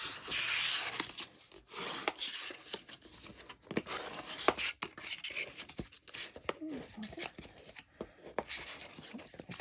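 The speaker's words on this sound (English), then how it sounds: "what we're going to do is burnish everything well, folding in" Rubbing and scraping as folded paper is burnished flat for a Bag of Bones Mega Hershey Nugget holder craft, close-up strokes in irregular bursts with small crinkles, no talking.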